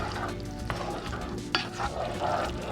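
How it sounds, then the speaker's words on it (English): Macaroni with milk and a cheese packet stirred in a pot, a close, steady scraping and soft sloshing with a brief clink of the utensil against the metal. "And give it a stir."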